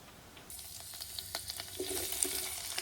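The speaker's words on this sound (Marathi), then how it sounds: "आता मी कांदा टाकते" Onion dropped into hot oil with whole garam masala sets off a broad sizzle. The hiss starts abruptly about half a second in and holds steady, with faint clatter from the pan.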